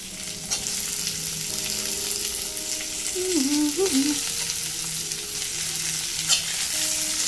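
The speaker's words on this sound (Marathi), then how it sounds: "आणि आता मस्त फ्राय होऊन देऊया" Onions and potatoes fry together in a pan for an eggplant curry, giving a steady close sizzle throughout with a few brief tonal scrapes as they are stirred.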